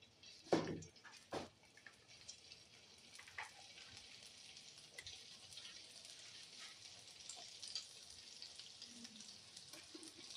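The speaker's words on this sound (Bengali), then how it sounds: "এবারে যে আমি ডোনাটগুলোকে বানিয়ে রেখেছি এগুলো এক এক করে ভেজে নেব।" Soft, steady sizzling of donuts frying one by one in hot oil over a low flame, low and continuous, with a couple of brief louder clunks near the start.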